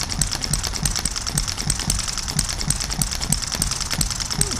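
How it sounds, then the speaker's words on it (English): A Porsche M96 flat-six engine idles steadily, close and alone, with an even low pulsing rumble and a faint high whine layered over it and no talking. "it's definitely starting and running pretty well right out of the box"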